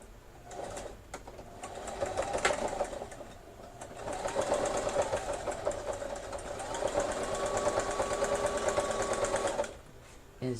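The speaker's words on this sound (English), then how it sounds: "I'm sewing the lace straight down." A sewing machine runs a straight stitch down the side of a strip of lace, its steady motor whir holding through most of the stretch with brief pauses and restarts near the start.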